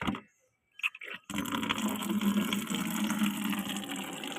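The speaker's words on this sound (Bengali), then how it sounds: "এদিকে বালতিটা ভরুক" A bucket fills with water for watering garden plants. After a few faint knocks and a short pause, a steady rushing stream pours in continuously, close and moderately loud.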